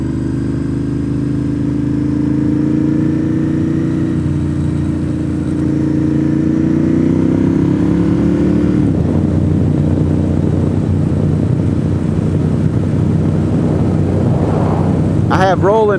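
A Triumph 400 motorcycle rides behind on a mountain road, its mid-pitched engine droning steadily and rising as it accelerates, with heavy wind rumble throughout.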